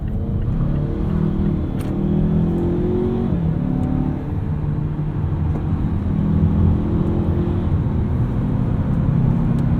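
A 2019 Mazda CX-5 Signature turbo engine in sport mode accelerates up an entrance ramp, its steady drone rising in pitch through the gears, heard close from inside the cabin with road rumble beneath.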